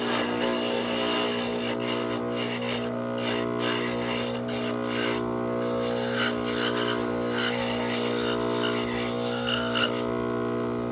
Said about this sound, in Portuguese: você vai usar uma lixa 120 para você dar o primeiro passo aí